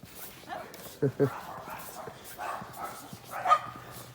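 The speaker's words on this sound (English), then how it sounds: "They're sure barking away out there." Hounds bark and yip in a few short bursts at a distance outdoors on a sunny day, mixed with a person talking nearby.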